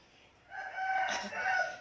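A rooster crows once, a loud drawn-out call rising and holding for over a second, fairly close and clear with no talk over it.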